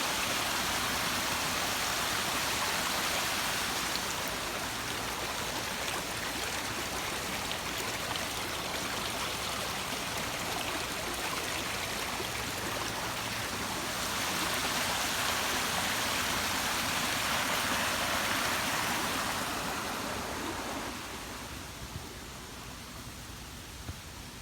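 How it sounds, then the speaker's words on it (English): Water rushes and splashes continuously from a small waterfall into a stream, a steady broadband roar that swells and then drops slightly near the end. "And there's a nicest little waterfall there"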